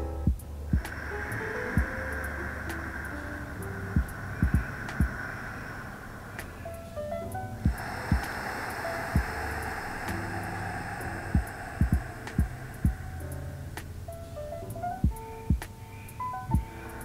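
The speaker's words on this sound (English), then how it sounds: "you will hear your breath. It will become more audible." Slow, audible yoga breathing with a constricted throat, a steady breathy rush that swells for about six seconds, pauses briefly, then continues in a second long breath, with faint low thumps underneath.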